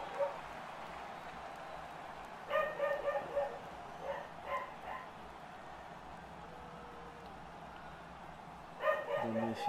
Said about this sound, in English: Dog's barking like crazy right now